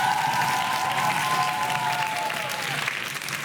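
Studio audience at a school quiz show applauds both competing teams, a steady, full burst of clapping that holds for a few seconds and eases slightly at the end.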